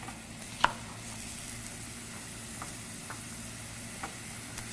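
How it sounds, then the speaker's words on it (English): Onions frying in a pan, a faint steady sizzle with a couple of brief clinks of a utensil against the pan. "Got those onions sizzling up."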